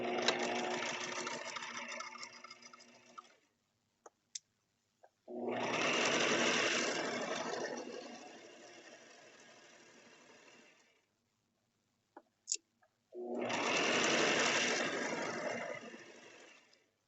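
A sewing machine stitching a simple pillow runs in three long, steady bursts separated by pauses with a few small clicks, close and fairly loud.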